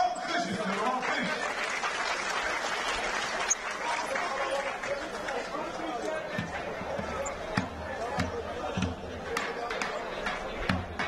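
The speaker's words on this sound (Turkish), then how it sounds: "Kocaman bir alkış istiyorum, alkış." A large outdoor crowd at a traditional Turkish oil wrestling tournament claps steadily in a public square, a continuous, moderately distant applause with occasional louder claps.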